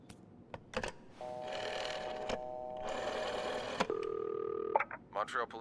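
A telephone is dialed in a video game: a dial tone hums, then a string of electronic keypad beeps and a ringing tone follow, with brief clicks and handling sounds around them.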